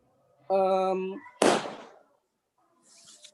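A firecracker goes off nearby during a church men's fellowship gathering in Cililitan, Indonesia: one sharp, loud bang that rings out briefly after a short voice, then quiet.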